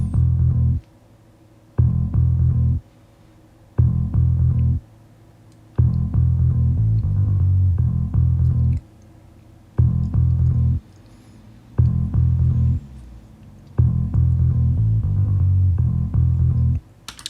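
The isolated sub bass channel of a metal song mix throbs as heavy low pulses in rhythmic blocks of about two seconds, separated by short gaps.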